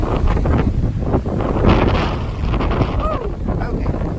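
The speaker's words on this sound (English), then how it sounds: "Okay, it's really windy." Strong wind buffets the microphone in a constant loud rumble on the Goodwater Loop Trail in Georgetown, Texas, with faint voices mixed in beneath the roar.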